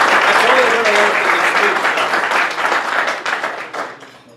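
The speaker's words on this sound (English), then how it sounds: "That's worth a round of applause." A town audience applauds at a Riverhead State of the Town address, sustained dense clapping that fills the room and then thins and fades out toward the end.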